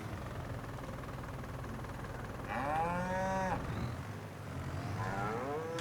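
Cattle in a new cow barn in Farming Simulator 25 moo twice, a long harmonic low-to-mid call and then a second one, over a steady background hum of game ambience.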